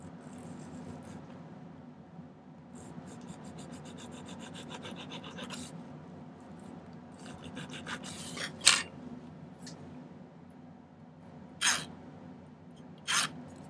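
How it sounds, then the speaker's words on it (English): A bastard file works a notch into silver at a jeweler's bench, producing faint, quiet rasping strokes in bursts with a few sharper scrapes standing out later. "Use the corner of the bastard file. Get a nice cut in there pretty quickly."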